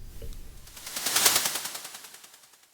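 Fast cymbal-like texture layered onto a synth riser, a rapid stream of metallic ticks that swell to a bright peak near the middle and then thin out as the pulses slow and fade.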